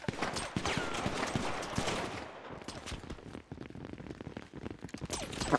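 Dense gunfire in a video game match, rapid crackling bursts and volleys of shots piling over one another throughout, loud and continuous with no pause.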